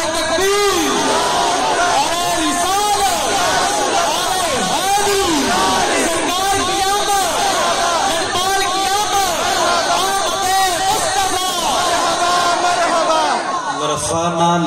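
A large religious gathering at a 12 Rabi ul Awal sermon answers the Nara-e-Takbeer slogan with loud, rhythmic chanting, a crowd of voices calling out in repeated waves that carry close and strong throughout.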